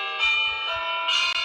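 Bells ring loudly and sustain with bright, shimmering overtones that swell again near the end, while faint low murmurs sit beneath them.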